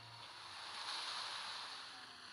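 Beach buggy splashing through water in Beach Buggy Racing, a soft continuous rushing, surf-like wash that swells and fades over a couple of seconds, fairly quiet, no voices.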